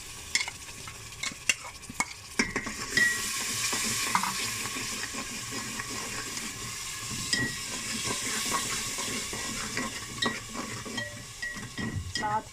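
A yogurt and spice mixture fries in masala for a mutton liver kaleji curry, with a steady sizzle under sharp spoon clacks and scraping as it is stirred, close and moderately loud.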